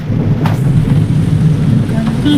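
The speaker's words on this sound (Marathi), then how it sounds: "पाऊस सुरू आहे जोरात" Heavy rain pours down near a roadside by a temple in Paijarwadi, a dense, loud, continuous wash of falling water and low rumble that fills the whole short stretch.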